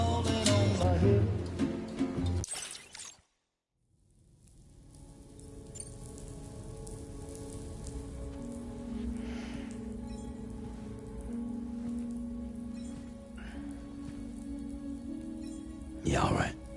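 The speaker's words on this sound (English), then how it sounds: "Raindrops are falling on my head." Rain falls in Death Stranding 2 on PS5, a steady patter of drops that fades in after a brief silence and continues under character dialogue and game sounds.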